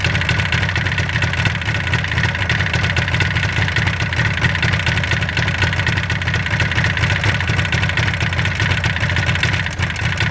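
A Yamaha RD400 two-stroke motorcycle engine idles steadily and close by while its carburetor pilot screws are adjusted, a continuous even burble with a dense rapid pulse that holds for the whole stretch without talk.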